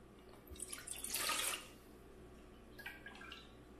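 Water poured from a measuring cup during a simple measuring activity splashes in one clear burst of about a second, then a fainter trickle follows.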